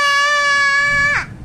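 A child imitates an elephant's trumpeting with one loud, sustained, nasal vocal blast that drops off sharply at the end; close, with no other sound.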